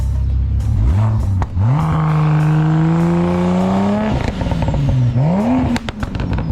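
BMW 335i with a tuned 3-liter N54 single-turbo engine and DCT transmission revving hard: loud, rising engine roar held for a few seconds, then dropping and revving up again, close and alone.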